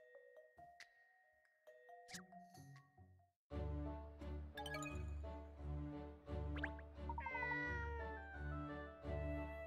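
A cat meows repeatedly in the Layton's Mystery Journey video game, clear rising and falling mews over chiming game music and tinkling effects, starting sparse and growing fuller after a brief silence.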